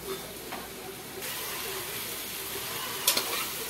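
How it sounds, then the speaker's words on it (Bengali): Boiled red lentils (masoor dal) are stirred in a hot pan, giving a continuous hissing sizzle with a couple of sharper scraping clinks near the end. "সেদ্ধ মসুর ডালগুলোকে দিয়ে একটু নাড়িয়ে চাড়িয়ে জল অ্যাড করব"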